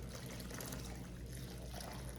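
Water pours steadily from a jug into a soil blocking mix for starting snapdragon seedlings. It makes a continuous close splashing and trickling with no break.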